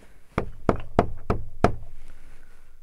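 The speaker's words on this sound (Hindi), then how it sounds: "Knock knock knock." Five sharp, evenly spaced knocks on old carved wooden woodwork inside Derawar Fort, each a resonant hollow thunk heard close up with a brief decay and no speech.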